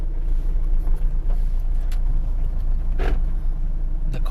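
A Mercedes Actros truck's diesel engine idles with a steady low rumble, close and continuous, broken by a few brief knocks and clatters.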